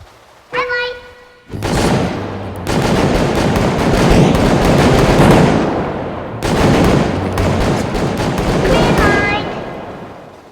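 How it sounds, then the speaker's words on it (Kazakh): Dense, loud bursts of rapid gunfire and explosive blasts in a Roblox video game, near and continuous for several seconds, with a short synthetic tone before and electronic chirps later. "маған оқ атылды"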